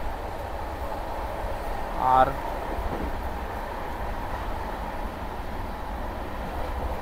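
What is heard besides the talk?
Kanchankanya Express train running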